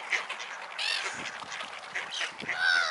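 Local ducks quacking, with several short, moderately faint calls overlapping in an outdoor bird gathering, with no talk.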